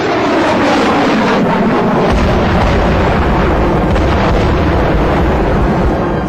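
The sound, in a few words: surface-to-air missile striking and downing its target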